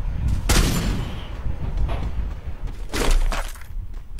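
Two loud, sharp landmine blasts in a video game about two and a half seconds apart, each with a crackling decay, over continuous low rumbling game noise.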